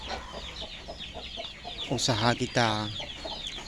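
Free-range village chickens cluck in short repeated bursts, with a louder run of clucks near the end, while someone talks quietly over them.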